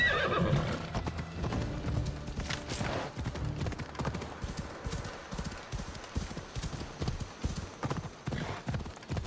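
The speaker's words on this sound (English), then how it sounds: "See how long we can last on a horse." Horse in Assassin's Creed Odyssey galloping with rapid, continuous hoofbeats close up, a neigh breaking out early, under busy game sounds.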